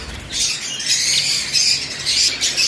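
Many birds squawk in harsh, shrill bursts close by, a noisy overlapping chorus that rises and falls.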